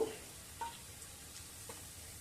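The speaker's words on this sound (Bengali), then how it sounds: "থেতো করে আদা রসুন কুচুরো পেঁয়াজ একসঙ্গে ভেজে নিয়ে" Crushed ginger, garlic and chopped onion frying together in oil, a quiet, steady sizzle with a couple of soft stirring knocks, heard alone and close.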